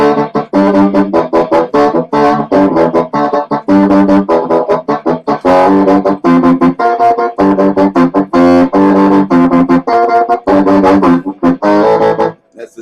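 Bassoon run through an octave split and overdrive, playing a lively line of short staccato notes and brief phrases with a buzzy, thickened tone, loud and close with no talking.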